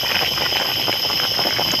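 Free-range chicken stew boils in a pot over a wood-fired clay stove, a steady close bubbling and blubbing with a constant hiss, no talk.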